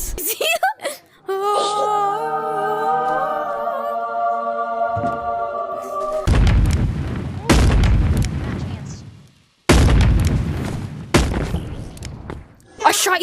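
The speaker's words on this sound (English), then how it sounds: "I shot you in the face." Gunshots in the video game Animal Company come as four loud, sharp blasts spaced a second or two apart, after a stretch of tonal game sounds and voices.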